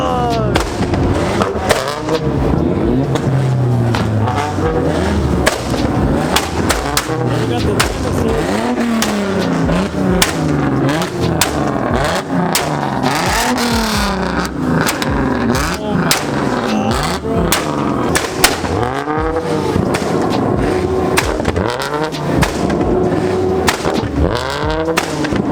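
Ford Mustang revving hard at a car meet rev battle, loud repeated throttle blips and roaring engine sweeps with sharp popping bangs from flames, crowd noise and voices mixed in throughout.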